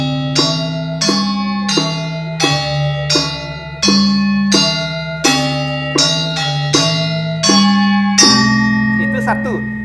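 A Balinese gamelan ensemble plays a Tabuh Telu cycle, with bright bronze metallophone strokes ringing in a steady, evenly spaced rhythm under sustained resonant tones, loud and close, with no talk over it.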